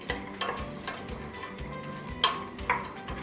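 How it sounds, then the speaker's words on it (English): Carrots and onions stirred in oil in a large saucepan, making soft repeated scrapes and light clinks of a utensil against the pan in a loose rhythm, close and fairly quiet. "Give them a good stir round to coat them in the oil"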